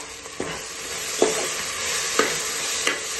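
Masala fries in oil for a double beans rice bath, a continuous sizzle broken by four sharp spoon scrapes as it is stirred at regular intervals.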